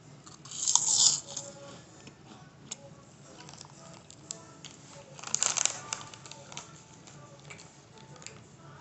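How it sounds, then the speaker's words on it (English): Spicy jalapeno cheese puffs bitten and crunched close to the mic, a crisp crunch burst near the start and another around the middle, with faint chewing between. "Get a close up on that big boy bite and that flavor and that crunch."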